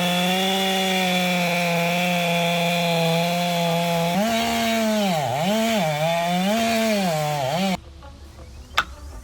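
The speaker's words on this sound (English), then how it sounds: "bring out a chainsaw and cut through a tree trunk that has been tied to the ground for several decades" A chainsaw cuts through an old tree trunk that has been fixed to the ground for decades. The engine is loud and steady, its pitch dipping and rising under load. It cuts out abruptly, leaving quiet with one sharp snap.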